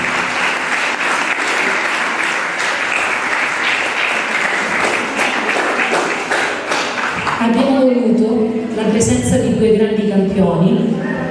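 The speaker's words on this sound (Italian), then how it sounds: "Fatevi quindi un grosso applauso perché avete lavorato insieme." Students at an award ceremony for a school sports and integration competition give a long, loud round of applause in a hall, with voices rising over the clapping toward the end.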